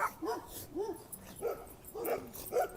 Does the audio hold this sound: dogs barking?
yes